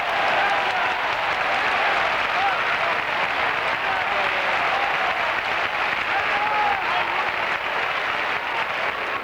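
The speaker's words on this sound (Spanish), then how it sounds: "El bellísimo tanto transformado por el madrileño fue acogido con una sonora ovación por parte de la afición balear." Football supporters of a Balearic club in a stadium give a long, loud ovation after a goal, dense applause and crowd roar holding steady throughout.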